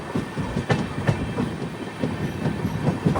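The Ernakulam to Velankanni weekly express sleeper rolls on with a loud, steady rumble and a rapid, regular clatter of wheels on track joints, heard from inside the carriage with no talking.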